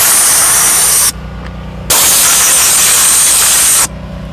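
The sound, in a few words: steam cleaner blowing grime out of car buttons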